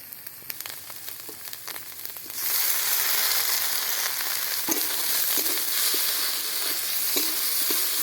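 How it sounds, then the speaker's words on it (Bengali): Fried okra drops into a pan of spice paste with mustard oil, first a quiet bubbling with light stirring, then a sudden loud, sustained hiss of frying as the okra hits, with occasional spatula scrapes over it. "সব বাটা মশলা দিয়ে ভালো করে কষিয়ে নিয়েছি। এবার ভেজে রাখা ঢ্যাঁড়স দিয়ে দিচ্ছি।"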